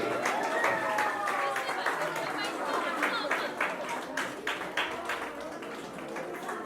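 Audience applause at a senior citizens' honour ceremony: a crowd claps steadily with sharp, uneven hand strikes, mixed with murmured chatter and voices in the hall.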